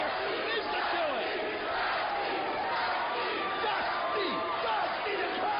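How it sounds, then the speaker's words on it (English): A large arena crowd at a TNA wrestling event roaring and cheering continuously, a dense wall of voices with shouts rising and falling throughout. "the crowd's going nuts like today"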